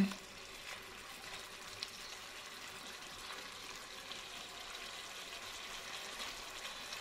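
Red snapper frying in a woku spice mixture in a pan, a soft, steady sizzle with faint stirring scrapes, quiet and continuous with no voices.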